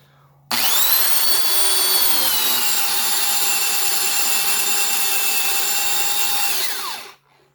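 A Harbor Freight Bauer Super Hawg half-inch right angle drill runs at a steady, loud, high-pitched whine for several seconds, starting abruptly and winding down as it coasts to a stop, with no talking.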